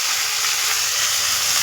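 Pathari greens sizzle loudly in a wok over a wood-fired stove, a steady, close hiss of steam and frying with no talking.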